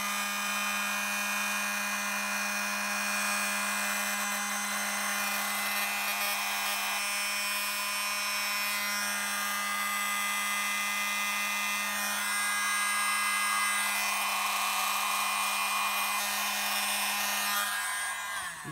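Steady close blowing noise as air is pushed over poured acrylic paint on a canvas, a constant hiss with a low hum underneath, continuous and fairly loud throughout with no talking.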